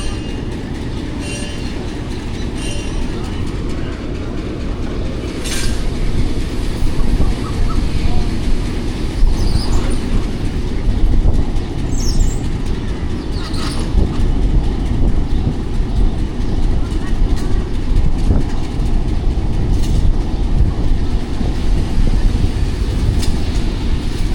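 The 13 Up Awam Express pulls out of Attock City Junction in Pakistan, its steady rumble and rolling wheel noise filling the scene continuously at close range, with occasional faint squeals and clacks and no talking.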